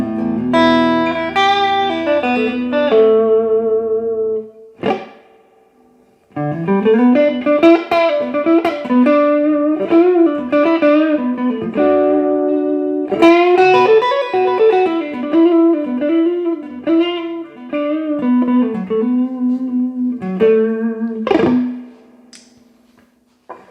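An electric guitar plays through the reverb of a Monoprice Stage Right 15 amplifier, with chords and melodic runs ringing out and a short pause near the start before the playing resumes and fades at the end.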